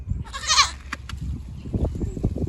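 Mixed herd of goats including Nigerian Dwarfs on a farm, one loud nearby bleat early on followed by fainter scattered bleats and low rustling background.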